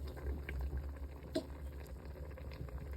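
Moringa soup with palm oil simmering in a pot, a soft steady bubbling and gentle patter close by, quiet and continuous.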